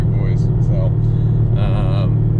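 Low, steady engine rumble of a Chevrolet Camaro heard from inside the cabin while driving, loud and constant, with voices talking over it.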